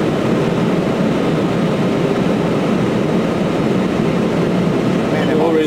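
Airliner cockpit during a night landing approach at Lisbon, a loud, steady roar of engine and airflow noise with a crew voice heard briefly over it.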